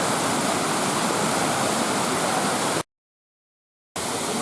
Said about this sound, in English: this is yet another section of the waterfall further up